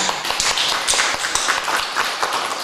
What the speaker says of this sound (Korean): 우리 강수성 장로님 위해서도 큰 박수 하겠습니다.